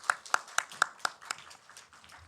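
Church congregation clapping in a rhythmic burst of about six or seven sharp claps, close and fairly loud, tapering off into faint room noise.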